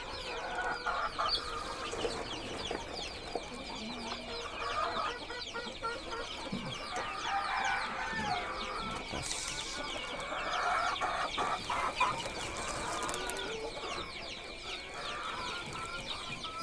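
KUB chickens and two-day-old hatched chicks cluck and peep steadily in a crowded coop, with a constant layered murmur of fowl close by and occasional louder calls.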